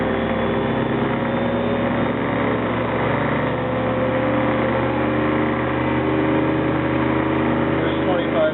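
A treadmill motor drives a Gingery lathe at 2,500 RPM, giving a steady, close mechanical hum and whir that holds even throughout.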